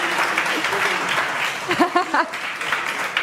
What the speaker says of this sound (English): Starting off with George Fairley. A round of applause.